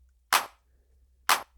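Two sharp, isolated hand claps about a second apart, each followed by a brief, tight room reflection and then near silence.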